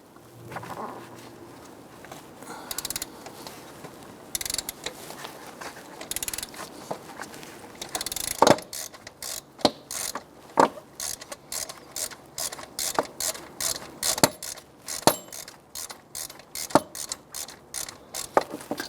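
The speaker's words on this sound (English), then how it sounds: "Using a 15mm socket on your ratchet, I'm going to go ahead and loosen the idler pulley bolt here." A ratchet with a 15mm socket loosens the serpentine belt idler pulley bolt on a 1999-2004 Jeep Grand Cherokee 4.7L V8, giving a rapid series of sharp, close clicks that starts after a quiet stretch of faint handling noise.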